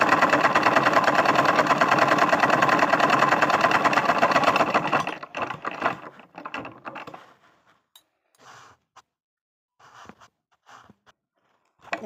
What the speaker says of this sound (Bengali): নেওয়ার পরে মেশিনে দেব। এইভাবে সেলাই করতে হবে।